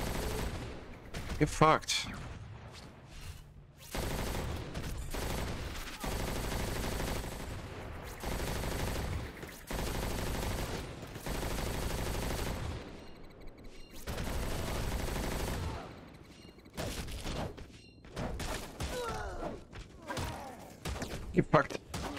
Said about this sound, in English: Who the fuck is shooting at me this time?